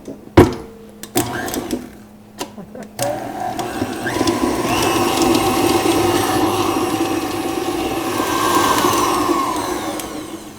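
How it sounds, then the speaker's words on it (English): A stand mixer fitted with a paddle attachment beats butter, cream cheese and a little vanilla, with a steady close motor whir. Before it comes a few sharp knocks and clatters as the ingredients are added. "now I'm just going to add my butter and my cream cheese to my mixer, and I have the paddle attachment this time on there"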